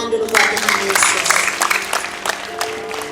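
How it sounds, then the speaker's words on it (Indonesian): A church congregation at an onsite senior community worship service breaks into steady clapping that fills the room, blended with voices and sustained musical tones underneath. "Kita beri tepuk tangan dulu buat Tuhan Yesus."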